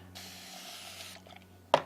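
A spray bottle mists water onto painting paper in one soft, continuous hiss lasting about a second. A sharp short click follows.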